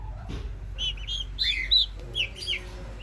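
Several high, quavering turkey calls come in short bursts from outside in the rain, moderately close, over a quiet low background rumble.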